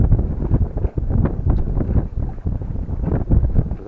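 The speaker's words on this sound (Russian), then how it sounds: "Ёлы-палы как дует." Strong, gusting wind buffets the microphone while fishing with an ultralight spinning rod for wild trout, a dense continuous low roar that rises and dips in uneven surges throughout.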